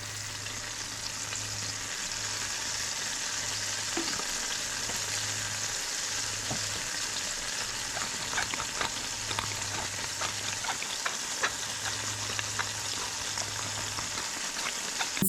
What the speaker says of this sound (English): I also have this small skillet with a tablespoon of butter melted. I'm placing a salmon fillet skin side up in this too.